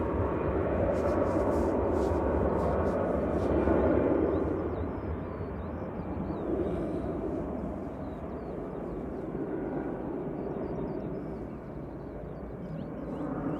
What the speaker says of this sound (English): Ridiculously large GE90s.